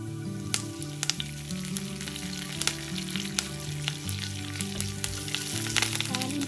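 Dried red chillies and curry leaves fry in hot oil as tempering for upma, giving a steady close sizzle with sharp crackles and spits over a faint tonal background.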